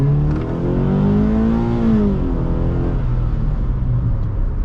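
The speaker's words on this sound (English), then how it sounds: "We'll give it some acceleration." A 2013 Subaru BRZ accelerates hard, its engine note climbing steadily in pitch before a shift, then a lower drone continues as the car keeps pulling from inside the cabin, loud and close with no talking.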